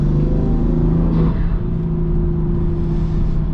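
A tuned BMW M4 with an aftermarket exhaust holds a steady, loud, low droning hum around 3,000 RPM while cruising on back roads, heard from inside the car with no talking.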